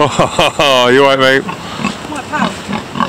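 A pig on a farm near Studland on the Isle of Purbeck gives a loud, drawn-out squealing grunt at close range, followed by softer snuffly grunts, with someone talking casually over and between them.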